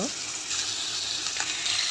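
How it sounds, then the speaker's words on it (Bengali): Rohu fish pieces hiss in hot oil in a home kitchen pan, a steady broadband sizzle that holds loud and even throughout, with a faint crackle or two, and no voices. "তেলটা গরম হয়ে গেলে এখানে আমি তেলের মধ্যে পিসগুলা সবটি দিয়ে দেব"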